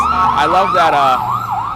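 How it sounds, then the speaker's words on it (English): Emergency vehicle sirens wail loudly with rising and falling sweeps that overlap, close and prominent, while a voice speaks briefly over them. "you hear the sirens coming before they knock me out of here"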